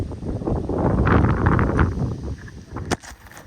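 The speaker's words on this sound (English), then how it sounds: "Right when we needed to lift up the panels, the wind hit." Gusty wind buffeting the microphone at a building site where large floor panels for a barn-style cabin are being lifted, a loud rushing roar that swells and then eases, with a sharp knock near the end.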